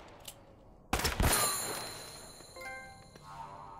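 A trophy-earned chime rings out in Uncharted: Drake's Fortune, a bright tonal ding that sustains and fades, sitting alongside sharp gunfire bursts and a later softer chiming tone.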